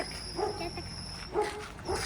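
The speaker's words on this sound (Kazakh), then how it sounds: "Мына жақта бір ит бізге үріп жатыр." A dog barks and yips three times from some distance outdoors, short high bursts spaced apart over a faint steady background hum.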